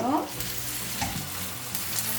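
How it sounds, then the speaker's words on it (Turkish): Julienned carrots and onions sizzle and crackle in a hot pan, a steady close frying hiss with occasional stirring scrapes. "Julian doğramış olduğum havuçları koyuyorum. Onu da kavuruyorum."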